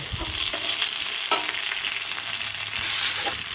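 Greens frying in a pan with turmeric and salt on a village stove, a steady close sizzle with occasional scraping stirs and small pops, and no voices.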